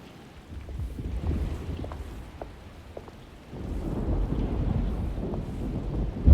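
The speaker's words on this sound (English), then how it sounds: "Looks like a storm's coming." Wind, rain and low thunder rumble build as a storm approaches in the 2024 Alone in the Dark game, a steady wash of weather noise that swells louder and fuller partway through.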